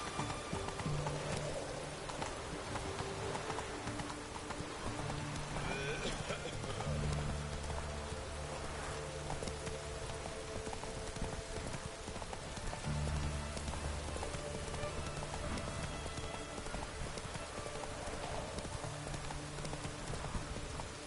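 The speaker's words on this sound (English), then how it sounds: "soak in the fucking rain for your motherland" In The Witcher video game, steady rain patters down while a horse's hooves clip-clop at an even walking rhythm, the hoofbeats coming and going over the constant wash of rainfall.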